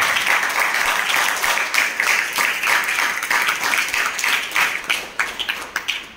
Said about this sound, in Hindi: इसलिए इनके सम्मान में एक बार जोरदार तालियां